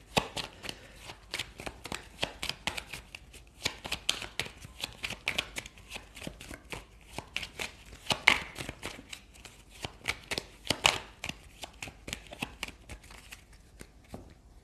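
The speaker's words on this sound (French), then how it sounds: "je vais terminer avec les tarots de Marseille. On va tirer 3 cartes pour voir un peu l'évolution" Marseille tarot cards shuffled by hand in a quiet room, a dense run of soft rapid riffling clicks and slaps continuing steadily for about fifteen seconds with no talking.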